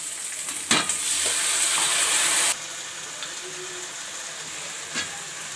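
Onion, capsicum and tomato frying in a pan, a bright sizzle that swells loudly for a couple of seconds, then settles into a softer, steady crackle with occasional stirring clinks.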